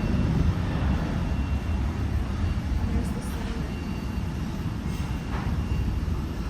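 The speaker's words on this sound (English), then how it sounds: "There goes the plane." Seen from an airport's outdoor lounge, an airplane passes at a distance as a continuous broad roar that stays steady throughout, with no talking.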